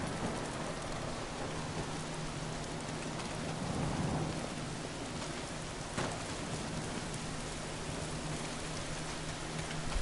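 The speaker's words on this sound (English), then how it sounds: "Oh, the rain might be helping me." Heavy rain pours down with rumbling thunder in the Days Gone video game, a dense, constant downpour with a low roll swelling near the middle and no voices.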